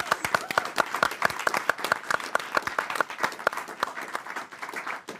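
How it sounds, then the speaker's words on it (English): A studio audience applauds a guest on a talk show, a steady burst of close, distinct hand claps that carries on for several seconds and tapers off slightly toward the end. "It's a great round of applause for Rudy"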